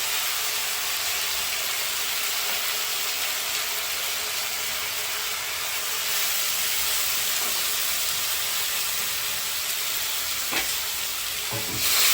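A spiced mixture of rice and puffed rice sautés in a pan with a steady, loud, hissing sizzle throughout, with a couple of faint utensil scrapes toward the end.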